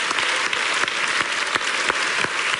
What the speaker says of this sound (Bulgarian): Аплодисменти за Мариана Попова!